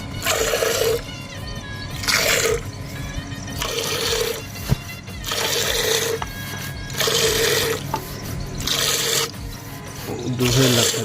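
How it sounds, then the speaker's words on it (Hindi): Water falling and splashing in a home kitchen while making kulfi, recurring bursts of pouring and gushing that rise and fall in roughly two-second surges, close and fairly loud. "पानी गिरे"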